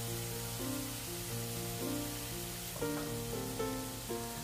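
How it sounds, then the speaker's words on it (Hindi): Masala spices for a whole moong dal curry frying on a low flame give a steady soft sizzle, partly masked by louder background music that carries through the clip. "अच्छे से मसाले को मिला लेंगे और धीमी आंच पे मसाले को फ्रेंड्स हम भून लेंगे।"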